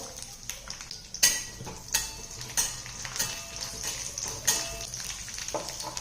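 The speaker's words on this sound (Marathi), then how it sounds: "आता यामध्ये आपण पहिल्यांदा काजू आणि बदाम तळून घेणार आहोत" Cashews and almonds frying in ghee in a kadhai, a soft sizzle under a handful of distinct metallic clinks and scrapes as a spoon moves them around, close and fairly quiet.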